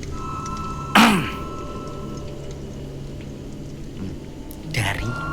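A voice imitates a throat clearing with a sharp, brief rasp near the start, followed later by a second softer, throaty burst, set against quiet room noise.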